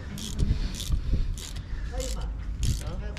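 A clamp is tightened onto a shaft, giving a run of close mechanical ratcheting clicks in short bursts with a low rumble underneath.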